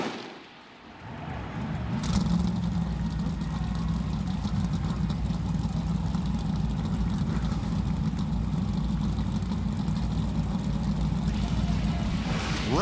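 Race car engines fire up for the NASCAR Cup Series Busch Light Clash at the Los Angeles Coliseum, a near-silent start giving way to a loud, sustained, rumbling roar of many engines idling together.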